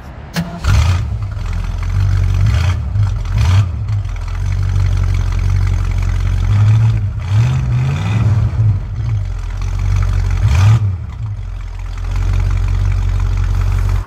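A 1967 Ford Mustang convertible's American V8 cranks and fires up, then settles into a loud, deep, rumbling idle with several throaty revs rising and falling, close by and without talk.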